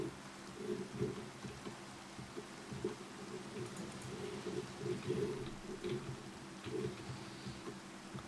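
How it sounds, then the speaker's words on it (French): Steady rain with low rumbling thunder falls in the game Minecraft, a continuous soft hiss with deeper rolling swells throughout, fairly faint and without speech. "Putain, il pleut"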